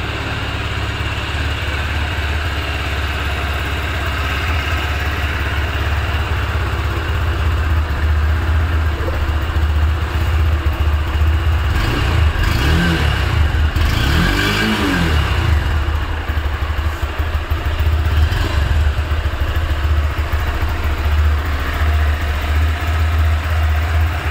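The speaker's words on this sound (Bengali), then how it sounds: "এটা হচ্ছে ইঞ্জিন সাউন্ড," A new Honda Hornet 2.0 184cc motorcycle idles close by with a steady low thrum, briefly revving up and down a couple of times midway before settling back to a smooth idle.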